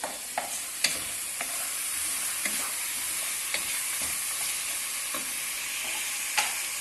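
Bone-in chicken sautéing in just a little oil for homemade haleem, a steady close sizzle with a few sharp scrapes and taps of a spoon stirring the pan, no voices.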